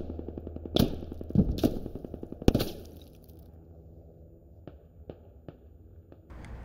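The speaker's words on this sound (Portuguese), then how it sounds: "Ah, tá me atirando." Gunfire in a squad-based shooter game: a few loud, sharp bursts of rapid shots close by, followed by quieter, distant single cracks spaced out over a low ambient hum.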